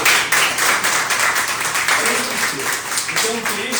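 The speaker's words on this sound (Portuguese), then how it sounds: "eu até peço uma salva de palmas para esse prêmio" Audience applause rings out for an award being celebrated, a steady wash of clapping filling the room for several seconds with voices talking over it.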